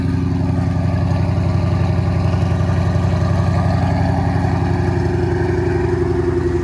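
Ford Shelby GT500 V8 engine running steadily after a cold start, a loud close rumbling idle with a fast, even pulsing throb and no talking.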